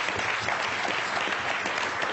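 Audience applause at a book launch by a former Nigerian president, a steady dense clapping from a crowd that fills the whole stretch at even loudness.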